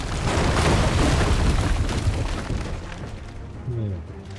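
Fire spell explosions in Final Fantasy XVI, a dense rumbling boom that rolls on for a couple of seconds and fades into a crackling tail, with someone talking briefly near the end.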